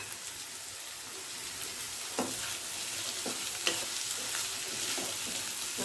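Slit green chillies and capsicum fry over high flame in a pan with a continuous sizzle. A spoon stirs and scrapes now and then, making soft intermittent clatters.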